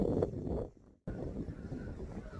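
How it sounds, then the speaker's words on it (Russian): Strong wind buffets the microphone outdoors in Provence among lavender fields and mountains, a loud rumbling gust that drops out briefly, then returns. "Ветер дует такой сильный."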